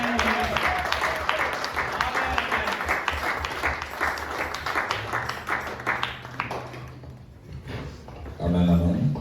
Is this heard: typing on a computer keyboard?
no